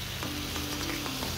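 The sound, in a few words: potatoes and onions frying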